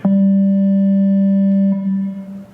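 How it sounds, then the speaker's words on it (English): A loud, pure steady electronic sine wave tone from a software synthesizer holds for nearly two seconds, then shifts slightly and fades out. "when I was playing my regular old"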